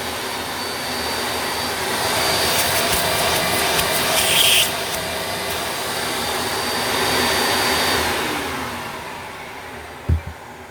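A Goblin Wizard 1000 canister vacuum cleaner roars steadily on high power, loud and close, with a broad whooshing hiss that swells slightly, then a brief thump near the end.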